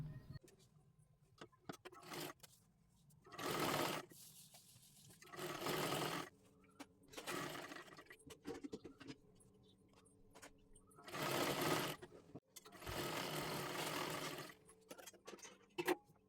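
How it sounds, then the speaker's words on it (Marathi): Home sewing machine stitching the hem of a dress cut from a Kathpadar saree, running in several bursts of rapid whirring a second or two long, separated by quiet pauses with small clicks and fabric handling. "पूर्ण घेर गोल मध्ये आपल्याला शिलाई करून घ्यायचं आहे"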